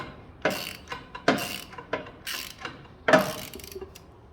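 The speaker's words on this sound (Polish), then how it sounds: "przykręcam katalizator, tą górną śrubę" Ratchet tightening the upper catalytic converter bolt on a Ford Mustang exhaust, close and moderately loud, with several short bursts of rasping clicks separated by brief pauses.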